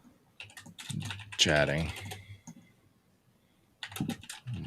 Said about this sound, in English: Sorry for the typing, everybody.